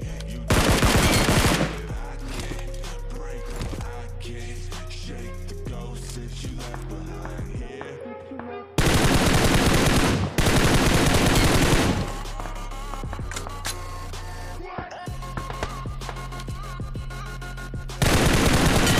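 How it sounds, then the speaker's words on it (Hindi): Loud, rapid automatic gunfire in the mobile shooter BGMI, several long sprays of shots separated by quieter gaps with game ambience, close and harsh throughout. "लोकेशन पता है, गोलियां चल रही है।"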